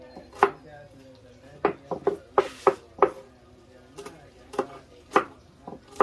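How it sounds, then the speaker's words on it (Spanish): A knife dicing onion into small cubes on a cutting board, heard as a series of sharp, close chops in irregular bursts with brief pauses between them. "vamos a partir también un pedazo de cebolla. La cebolla la vamos a hacer en cuadritos"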